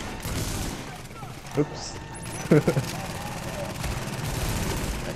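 Enemy gunfire in the video game The Division, heard as a few sharp bursts mid-clip over a steady background hum, with a man's brief spoken exclamation.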